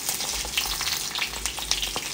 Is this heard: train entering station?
no